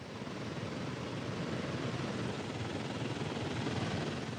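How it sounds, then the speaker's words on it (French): A steady, droning rotor roar fills the air continuously, like flying inside a helicopter cabin, with no talking. "les équipes du parc prennent l'hélicoptère"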